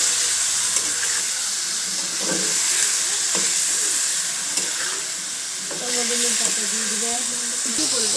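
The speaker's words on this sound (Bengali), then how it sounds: "বেগুনটা দিয়ে এতে দেব সামান্য পরিমাণ লবণ আর সামান্য পরিমাণ হলুদ দিয়ে বেগুনটা ভেজে নেব।" Brinjal fries in a pan with salt and turmeric, a steady broad sizzle and hiss with occasional clinks and scraping, and faint sounds of movement near the end.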